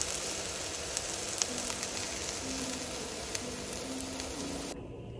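French toast sizzling in a frying pan, a steady close crackle and hiss lasting several seconds with faint pops, cutting off near the end.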